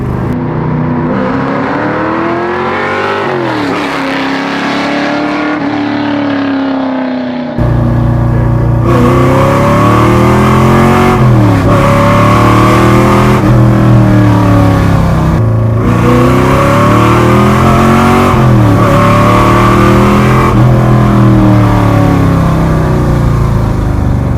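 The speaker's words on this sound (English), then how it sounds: "there's something about the sound you get from the push rod, the stroked motor like that" A loud, rumbling stroked pushrod V8 engine of roughly 500 horsepower with a heavy, lopey idle, revved repeatedly in rising and falling sweeps, close up and continuous.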